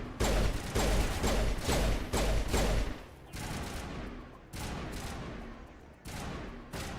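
Rapid heavy weapon fire in the sci-fi shooter Mass Effect, loud bursts of booming shots in quick succession, then a lower rumbling stretch with further clattering volleys.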